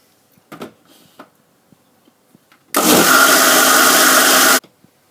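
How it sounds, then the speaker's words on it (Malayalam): A blender grinds hummus in one sustained, loud whirring burst lasting about two seconds, preceded by a few small clatters and knocks in an otherwise quiet kitchen. "ഇത് സ്പൂൺ വെച്ച് ഒന്ന് നന്നായി മിക്സ് ചെയ്ത് കൊടുത്തതിന് ശേഷം ഒന്നുകൂടി അരച്ചെടുക്കാം"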